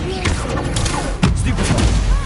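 Incendio fire spell cast in the Hogwarts Legacy video game, a dense burst of crackling blasts and thuds with a sharp impact near the middle, over busy game sound and voices.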